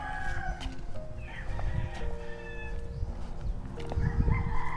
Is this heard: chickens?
yes